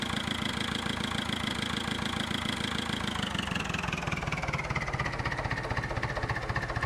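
A tractor engine in the farming video game Farming Simulator 2011 runs steadily, a loud, close, throbbing mechanical drone with a rapid regular pulse and a slight shift in pitch partway through.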